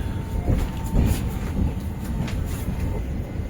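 Steady rumble and rattle of the Sealdah–New Delhi Rajdhani Express running, heard from inside a carriage, continuous and fairly loud with faint clicking of wheels on rails.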